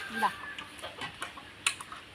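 A chicken clucks in a few short, quiet notes, close by, with faint background noise.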